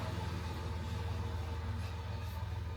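A tractor dragging a rake along a sandy beach gives a faint, steady low engine drone heard from a distance, with no talk.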